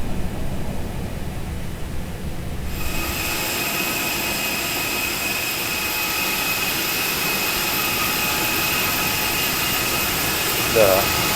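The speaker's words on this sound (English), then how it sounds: "the way they sound when the packs turbines starting from the cabin" Air-conditioning pack turbines on an A320neo spooling up, heard from inside the cabin: a steady broadband whoosh swells after a quiet start and holds, with a thin high whine running over it, alone throughout.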